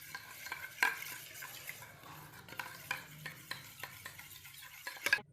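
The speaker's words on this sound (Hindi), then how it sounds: "इसको अच्छे से मिक्स कर देंगे।" Homemade vitamin C night cream is stirred in a small container, an irregular series of soft scraping strokes and light clinks from the utensil against the sides, close and fairly quiet.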